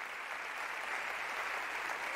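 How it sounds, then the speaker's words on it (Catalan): Steady applause from an audience at a Catalan awards gala honouring the technical staff, a dense even patter of clapping throughout with no voices on top. "Un aplaudiment per a ells."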